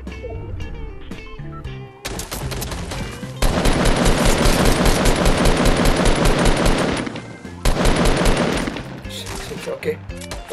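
Fortnite gunfire crackles in long, dense automatic bursts separated by brief pauses, loud and close, with a player's voice talking over parts of the action.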